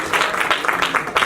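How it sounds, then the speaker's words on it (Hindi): An audience at an alumni meet gives a short burst of clapping, dense and fairly close. "तालियां बजा दो एक बार"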